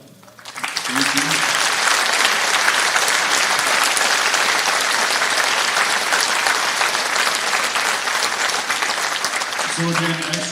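An audience at a school Veterans Day program in Oelwein applauds loudly and steadily for several seconds, a dense wash of clapping that swells in at the start and holds.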